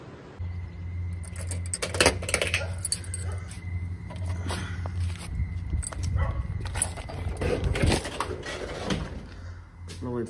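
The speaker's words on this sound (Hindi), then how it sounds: "उठा ली है अपनी कर्म भूमि की चाबी" Shop keys jangle and clink close by in irregular bursts, alongside footsteps and a steady low hum from a passing vehicle or motor.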